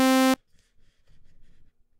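Oscillator 2 of a Massive software synthesizer with its waveform changed, sounding a short, loud buzzy harmonic tone that stops sharply after about a third of a second, followed by faint low murmuring.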